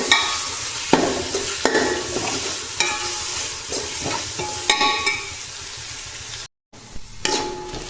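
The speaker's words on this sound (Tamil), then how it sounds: "இஞ்சி பூண்டு பேஸ்ட்டும் நல்லா வதங்கிருச்சு" Ginger-garlic paste sautéing in hot oil for mutton biryani, a steady close sizzle broken by repeated scraping stirs of a spoon against the pan, with a brief dropout near the end.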